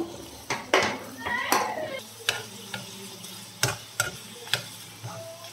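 Hot oil crackles and sizzles steadily as curry leaves and spices temper, punctuated by sharp clicks of a spoon against the pan.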